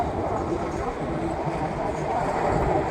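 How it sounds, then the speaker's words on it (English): A train passing through Auckland, New Zealand, near the harbor area, heard as a steady broadband rumble and rattle of rail cars that holds at a constant loudness throughout. "And there goes the train, I'd guess, to the suburbs."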